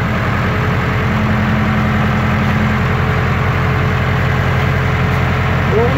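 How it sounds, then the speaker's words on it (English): A backhoe engine runs steadily with a shed swinging behind it: a loud, continuous low diesel rumble with an even idling throb throughout, and no voices. "driving a backhoe with a shed swinging around behind me"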